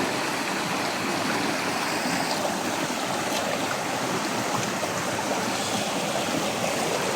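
A stream flows steadily, a dense, constant rushing and gurgling of water that is loud and close and runs without a break. No voices are heard.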